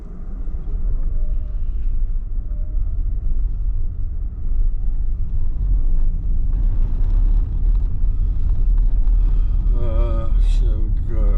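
A car driving through the streets of Bergen, Norway, heard from inside as a continuous low road and engine rumble, with faint voices briefly near the end.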